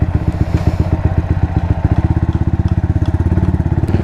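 A Sniper motorcycle in good condition runs unwarmed at close range, its engine throbbing in a fast, steady, loud putter with a slight clatter throughout.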